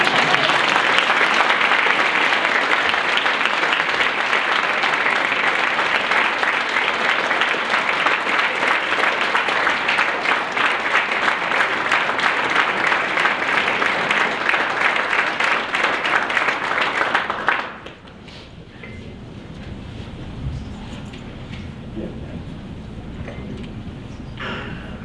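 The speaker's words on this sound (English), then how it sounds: "Let's give them one more hand of applause while they make their way to the seat." An audience fills a hall with loud, sustained applause at a college athletic hall of fame induction ceremony; the clapping runs strongly for about seventeen seconds, then cuts off sharply into quiet room murmur.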